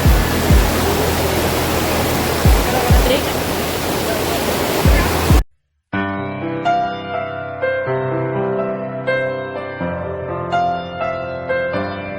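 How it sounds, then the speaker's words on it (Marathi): The Satsada waterfall near Mahad in Raigad district sends water falling from above in a loud, dense, continuous roar for about five seconds. It then cuts abruptly to brief silence, followed by music. "मस्त वरतून पाणी पडतंय"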